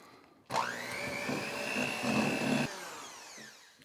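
An electric mixer starts abruptly and whirs steadily as it blends red gel food coloring into macaron filling, a close, continuous motor drone with a rising whine, then cuts off sharply near the end.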